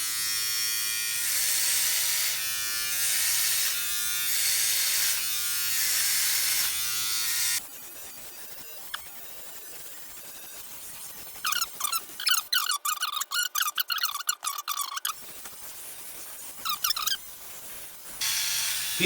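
A Philips OneBlade electric shaver buzzes loudly and evenly on a dry face with no shaving cream, then switches to a softer, choppy scratching and clicking as the blade moves over stubble in short, repeated passes.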